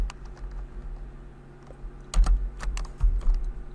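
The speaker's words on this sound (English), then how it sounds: "if I can type" Someone types on a computer keyboard in steady, close clicking keystrokes, with a couple of heavier clustered bursts partway through and no speech over it.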